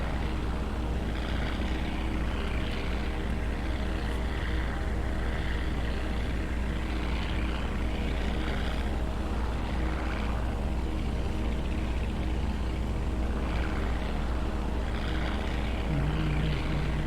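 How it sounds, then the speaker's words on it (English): A small barnstorming propeller plane drones steadily in flight, its engine roar loud, close and unbroken throughout with no talking. "That's the thing about out barn storming in a little plane like this."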